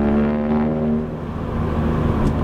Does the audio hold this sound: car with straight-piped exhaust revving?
yes